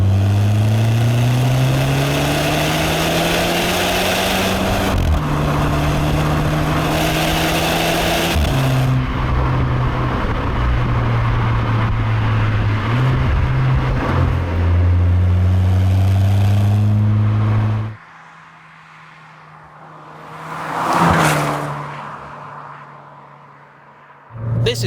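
A turbocharged and supercharged Skoda Fabia vRS accelerates hard through repeated gear pulls, its engine note rising and dropping with each shift, then easing to a quieter lift-off and a brief surge near the end, with no speech.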